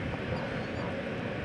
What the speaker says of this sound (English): Turning now in departure mode is American Flight 2253 to Santa Ana, California. It's a MAX 8.